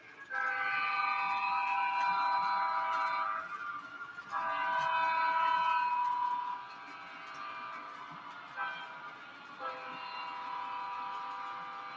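A model train hums and rattles along steadily with layered whistle-like tones, fading briefly and returning, with no one talking.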